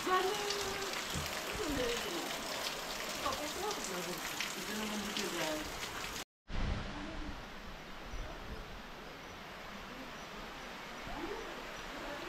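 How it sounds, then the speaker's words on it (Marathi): Heavy monsoon rain pours in Konkan as a steady, dense hiss that fills the whole scene, broken by a brief silent gap midway, with faint voices now and then underneath. "कोकणामध्ये पाऊस जाम लागतो."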